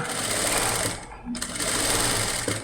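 A sewing machine stitches canvas into a blouse neck, running in a fast, steady buzzing burst that pauses briefly mid-run before resuming, close up and loud.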